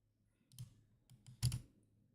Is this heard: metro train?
no